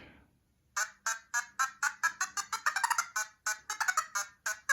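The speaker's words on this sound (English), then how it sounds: "There's even a noisy one. It's called the speaker." A Cubelets speaker block, a small robotic toy module, sends out a quick run of sharp electronic beeps. About twenty close, clean tones come in irregular bursts after a brief quiet start.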